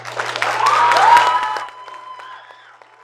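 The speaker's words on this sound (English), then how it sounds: "give her a round of applause" An audience at a fall presentation session claps and cheers, the applause swelling then fading over a second and a half, followed by a few lingering claps and a faint whistle.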